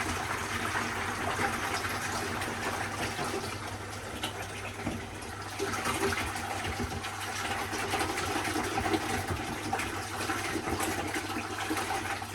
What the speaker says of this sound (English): Then we're going to fill some water up into the bucket.